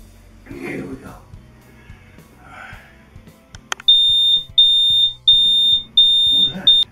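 A home smoke detector sounds a series of loud, piercing high-pitched beeps in a steady repeating pattern. It comes after quieter speech in a room.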